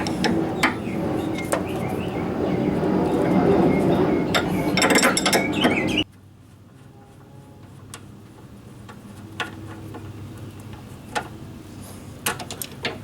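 Ratcheting socket wrench loosening a rear sway bar nut on a Saturn Sky, close and loud, a steady run of quick clicks for about six seconds, then quieter scattered ticks and clanks.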